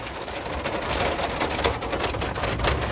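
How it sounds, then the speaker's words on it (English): Steady rain pattering on a surface in Yellowstone, a continuous dense hiss with scattered drops, no voices. "Look, it's raining."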